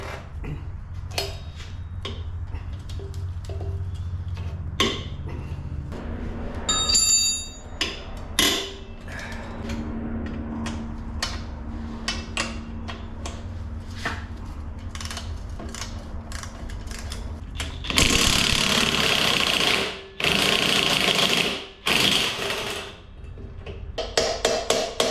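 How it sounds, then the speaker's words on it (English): Metal knocks and hammer taps ring out while the axle is worked off a 2009 Yamaha Raptor ATV, irregular clanks and clicks up close, followed by a few seconds of louder scraping, grinding bursts. "what I want to do is take the axle off."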